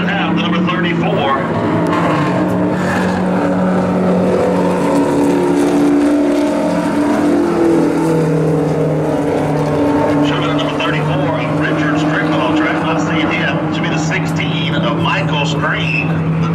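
Mini stock race cars run a heat race at Oglethorpe Speedway Park, engines droning and whining continuously at close range while an announcer talks over the action.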